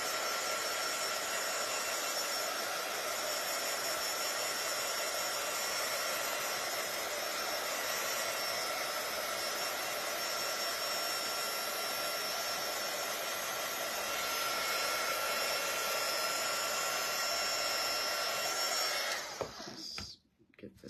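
A hair dryer blows steadily on freshly painted wood for a patriotic angel craft, giving a loud, close, continuous whooshing whir that shuts off with a few clunks near the end.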